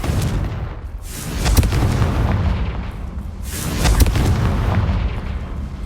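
Confringo fire spell blasts in Hogwarts Legacy, loud booming explosions with a rumbling low end, two main bursts about two and a half seconds apart over continuous game noise.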